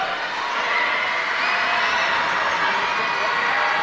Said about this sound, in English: Holy Trinity crowd, extra loud over there